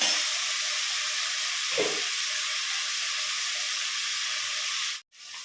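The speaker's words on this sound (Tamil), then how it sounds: "கொஞ்ச நேரம் தக்காளி நல்லா வதங்கட்டும்." Tomatoes for vegetable biryani sauté in a pan, giving a constant soft hiss with faint background noise under it, then a short break near the end.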